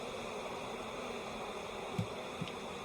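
Honeybees inside a hive feeder lid, feeding on leftover syrup, fill the air with a steady dense buzzing drone, close and continuous, with a couple of soft knocks near the end.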